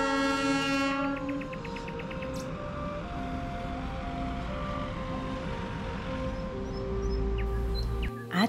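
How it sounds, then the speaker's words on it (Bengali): A morning toy train on a misty hill route sounds its horn in long sustained blasts while the carriages rumble past steadily, close and loud, with faint birds chirping. "সকালের টয় ট্রেন।"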